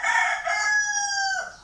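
A single rooster crows once at close range, a loud, bright call lasting over a second that ends on a falling tail, with no other sounds.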